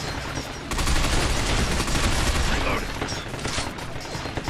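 Heavy, sustained gunfire from a large crowd of enemies in the shooter Binary Domain, a dense roar of overlapping shots that starts abruptly and keeps hammering loud and close for several seconds.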